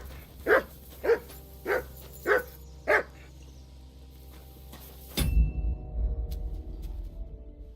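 Mutt the dog in the video game Kingdom Come Deliverance 2 gives five evenly spaced barks with a whimpering edge, close and clear. A low rumbling noise then rises and carries on after the barking stops.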